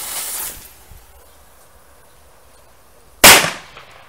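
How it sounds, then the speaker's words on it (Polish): A firecracker from a new series set off outdoors in a field, a hiss at first, then quiet, then one sudden loud close bang that decays quickly. "Najpierw odpalimy z nowej."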